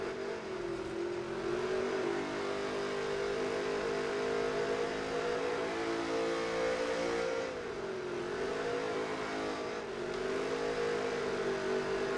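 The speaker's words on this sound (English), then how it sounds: "These cars sound the best in the whole game." Continuous loud engine roar with revving pitch rising and falling, like NASCAR race cars speeding around a track in the video game NASCAR Heat 3, steady throughout with no talking.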